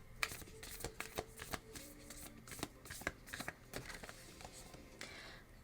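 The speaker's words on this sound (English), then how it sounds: "One more shuffle." Tarot cards shuffled by hand during a pick-a-pile reading, a close, quiet run of crisp riffling slaps and soft papery flicks in an uneven rhythm, with no talking.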